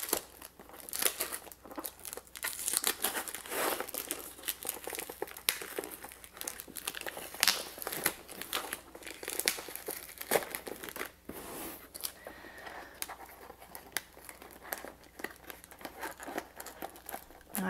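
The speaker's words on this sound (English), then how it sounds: "Some people just rip the tape all the way down" Tape and plastic packaging are torn and crinkled off a Pullip doll box, a continuous close crackling and ripping that runs steadily throughout at a soft to moderate level.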